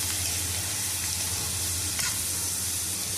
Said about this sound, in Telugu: పెద్ద పెద్ద కట్టలు 4 కొంచెం కొంచెంగా వేసేసి ఫ్రై చేస్తున్నాను